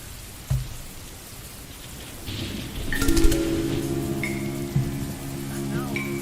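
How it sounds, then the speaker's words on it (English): Rain sound effect placed in a music production session for a game soundtrack remake, a steady wash of rainfall with a sharp thump and sustained tonal music layered over it. "And let's listen. Rain."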